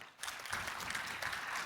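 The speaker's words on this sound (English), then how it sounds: "A nice round of applause as they make their way on stage." Steady applause from a crowd, many hands clapping continuously and evenly, moderately distant, with no speech.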